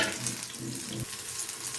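Soft, steady sizzling and crackling of peanuts frying in a pan, with faint stirring scrapes, close and continuous with no talking.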